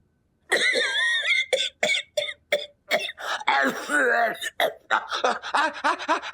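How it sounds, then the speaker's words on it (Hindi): A man coughs hard in a long fit of harsh, throaty coughs, broken by strained gasps and groans. "बड़ी जबरदस्त वाली खांसी हो गई है"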